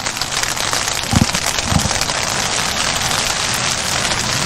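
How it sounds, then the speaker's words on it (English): A rain shower falls steadily at an outdoor baseball game, its dense, even hiss of drops continuing throughout, with a couple of low thumps near the start. "Pretty decent little rain shower coming through."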